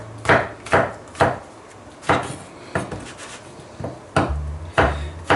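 Mushrooms drop into a cooking pan for a hearty beef and mushroom dish, giving about nine sharp clattering knocks at irregular intervals, close and fairly loud, with a faint sizzle underneath at times.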